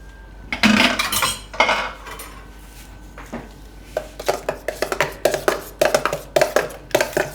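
A spoon clinks and scrapes against a bowl while muskmelon ice cream mixture is mixed in a home kitchen, first in a few scattered knocks, then in a quick, regular run of close taps with no talking.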